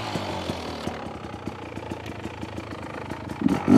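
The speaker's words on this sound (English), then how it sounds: "I haven't warmed this up, so hopefully it revs well enough for what we're doing" A cold Enduro motorcycle engine idles close by with a rapid, even put-put pulse that picks up slightly at the end.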